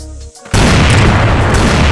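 A grenade explodes in the CrossFire video game as a single sudden, loud boom that bursts in after a brief lull and leaves a dense, roaring blast tail.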